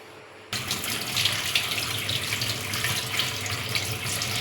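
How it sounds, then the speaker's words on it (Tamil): Water runs steadily from a tap over pumpkin pieces that were soaked in lime, rinsed for an Agra petha sweet; a continuous close splashing hiss that starts abruptly after a short quiet moment. "இது காயறதுக்குள்ளே நான் இந்த சுண்ணாம்பில் ஊற வச்ச பூசணிக்காயை 2 தடவை வாஷ் பண்ணிப்பேன்."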